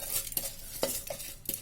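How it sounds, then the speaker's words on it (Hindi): Washed rice goes into a pressure cooker on a gas stove for vegetable khichdi, with close metallic clinks and soft scraping in short separate hits over a faint background hiss. "अब गैस में एक कुकर चढ़ा देंगे, उसमें ये चावल डाल देंगे मैंने जो धो के रखे थे"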